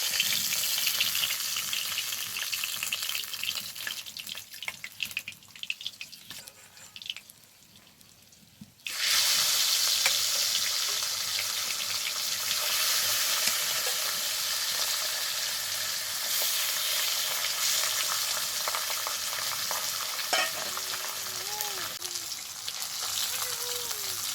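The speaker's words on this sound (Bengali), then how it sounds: "পাবদা মাছ কিন্তু খুব একটা কড়া করে ভাজতে লাগে না, এরকম হালকা ভাজাতেই হয়ে যায়।" Pabda fish lightly frying in hot oil: a quieter, uneven stretch gives way to a loud, continuous close-up sizzle that holds steady to the end.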